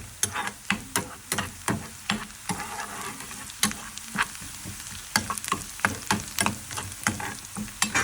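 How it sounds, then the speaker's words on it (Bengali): Spice paste fries in a pan while being stirred continuously, a steady sizzle cut by regular, rhythmic scraping strokes of a spoon against the pan, close and fairly loud. "কন্টিনিউ নাড়াচাড়া করে যাচ্ছি"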